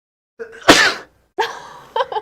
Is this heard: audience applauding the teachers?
no